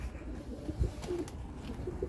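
Pigeons coo softly nearby in a loft, a few low, rounded calls over faint background rustle.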